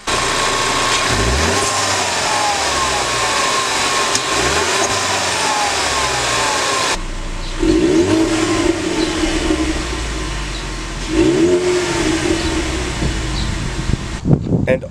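Stock Ford Mustang EcoBoost turbo engine revved repeatedly, rising and falling in loud close bursts over a continuous mechanical drone, with a sharp change in tone partway through and a few clicks near the end.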